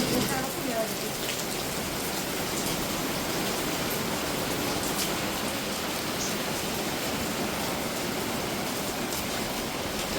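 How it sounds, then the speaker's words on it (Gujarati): A sudden heavy downpour in Mehsana pours down steadily, a dense continuous hiss of water drumming on surfaces with no letup. "એકદમ ધોધમાર વરસાદ ચાલુ થઈ ગયો"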